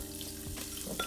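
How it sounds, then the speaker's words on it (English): Chopped onion sizzles in hot oil in a pot at the start of a Tuscan Chianti beef stew, a steady close frying hiss with a couple of soft stirring knocks. "So I see my onion sizzling in there"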